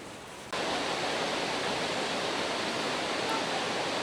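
A waterfall at a hot spring on the Izu Peninsula roars as a dense, steady rush of falling water, cutting in loudly after a quieter half-second and staying constant to the end.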